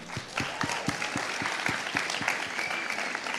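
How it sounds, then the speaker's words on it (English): An audience at a high school spoken word event claps steadily, with a dense, even patter of hands from a moderately sized crowd continuing throughout. "Let's give a round of applause for Kobe."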